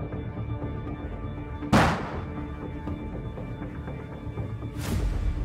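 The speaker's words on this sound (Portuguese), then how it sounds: "Vamos já jogar uma granada aqui." In the tactical shooter Tactical Combat Department, a grenade is thrown amid a humming background, with two sharp percussive bursts about three seconds apart. The first is louder and decays quickly.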